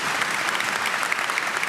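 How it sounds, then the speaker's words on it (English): Applause from the audience at the Austrian World Summit 2025, a steady dense patter of many hands clapping, sustained and fairly loud throughout, with no talk over it. "So, an applause for you,"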